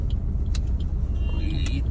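A car passes on a busy, badly dug-up road, giving a close, steady low rumble of traffic throughout, with faint brief higher noises on top.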